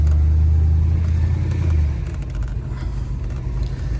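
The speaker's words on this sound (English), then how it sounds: "Nothing crazy with the exhaust." A 1983 Oldsmobile Hurst on a test drive, its engine and exhaust giving a steady, loud low rumble that eases slightly partway through, with no talking.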